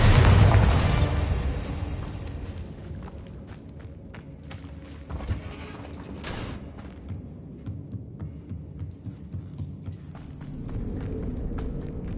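A Bombarda spell blast in Hogwarts Legacy, a loud booming burst at the start that fades into a rumbling tail, followed by scattered hits and footstep-like thuds.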